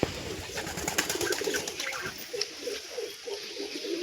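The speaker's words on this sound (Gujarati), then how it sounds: "તો અહીં છે આપણા કબૂતર" Pigeons coo close by in a repeated soft, throaty rhythm, several low calls overlapping, with faint sparrow chirps and a light rustle in the background.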